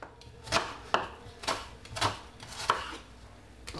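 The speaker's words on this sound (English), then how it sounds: "I'm gonna get a medium-sized white onion. And I'm just simply cutting up it." A medium-sized white onion being chopped with a knife on a board, giving about seven crisp, close, fairly quiet strikes at a steady, unhurried pace.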